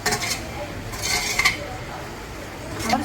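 Stirring chilli and oil in a cooking pot, a utensil scraping and clinking against the metal in a few short bursts at close range, with faint voices in the background.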